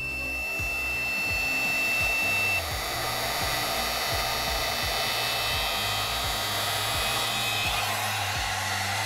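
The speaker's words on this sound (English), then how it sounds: "Now I'm gonna take my heat gun again and I'm gonna blow it right on there." A heat gun blasts hot air steadily at close range onto a thermostat with a mercury switch, a loud continuous roar with a faint rhythmic ticking underneath and no talking.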